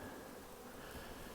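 Honey bees buzz around the hive entrance in a steady, close, continuous hum with no pauses and no talking.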